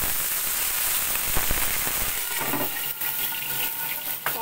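Blended onion paste in hot oil makes a dense, loud, hissing sizzle that is partly muffled under a pan lid, with a few clinks and a dip in the hiss toward the end.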